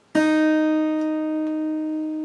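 A single pluck of an acoustic guitar's open second string rings out alone, a clear tone that sustains and slowly fades with no other sound.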